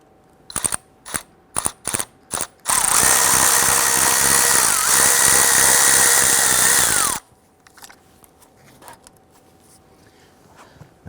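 A ratchet loosens an 8mm screw on the radiator cooler lines of a 1999-2004 Jeep Grand Cherokee 4.7L V8, with a few sharp clicks and then a steady, close whirring run of about four seconds before a quiet workshop background returns.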